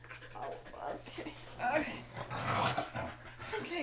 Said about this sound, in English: Oh my goodness, these are my puppies.